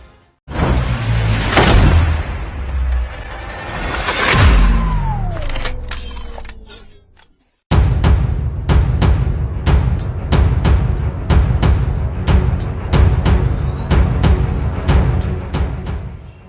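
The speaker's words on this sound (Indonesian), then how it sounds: "Wow, Indonesia, uji tembak rudal Star Trek buatan BUMN seperti apa?" An air defense artillery missile test firing in Indonesia. It opens with two heavy booming launches and a descending whoosh, followed by a long series of sharp, evenly spaced cracks from rapid-fire shots, loud and close, with no talk.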